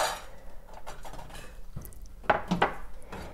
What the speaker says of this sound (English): what I have here is 1/3 cup of chopped pecans, and I'm going to put it in my dry skillet